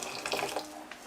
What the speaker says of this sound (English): So I'm gonna put some hot water inside of the pot.